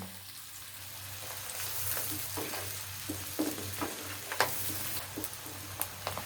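Onions sautéing in a pan with salt for an egg masala, stirred continuously: a soft steady sizzle with scraping spoon strokes recurring irregularly over a low hum, no talk.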